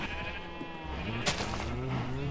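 Sheep bleating in the video game Minecraft, a few short bleats rising over a steady background of game ambience and other farm animal noises, with no talk.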